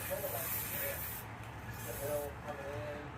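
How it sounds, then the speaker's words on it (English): Paint hisses from a spray can in light, intermittent bursts while making a galactic space scene, close and soft, with a voice faintly underneath. "if I hit the button very lightly, I can get that little spray"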